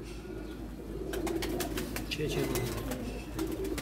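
Kaldumi and Teddy Golden pigeons coo softly in a loft, low murmuring calls repeating under someone speaking over them.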